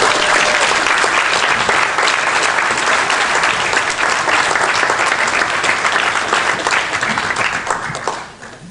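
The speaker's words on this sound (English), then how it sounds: "I think we should give all 9 candidates a big round of applause" Loud, sustained applause from a forum audience for nine candidates, a dense wash of many hands clapping steadily before tapering off at the end.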